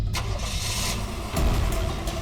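A car engine starting and revving as a vehicle pulls away in a crime drama scene, a short close burst of engine noise that swells near the end.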